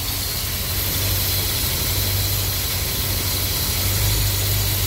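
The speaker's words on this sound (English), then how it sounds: "I don't know if you guys can tell, but the idle is getting better." A car engine with a Holley carburetor idles steadily during idle mixture adjustment, a continuous close rumble with a smooth, even drone and no pauses.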